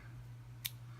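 Scissors make a single brief, crisp snip through thin dark elastic cord, heard alone against a steady low hum.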